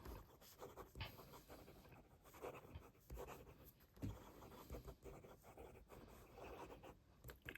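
A Montblanc fountain pen, a wet-writing Writers Edition model, scratching quickly across paper in soft, uneven strokes with brief pauses, faint and close.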